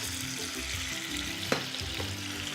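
Drained vegetables sizzle in vegetable fat in a casserole pot while a beef and chestnut sauté is prepared, a steady close frying hiss with a brief clack of a utensil midway and no talking.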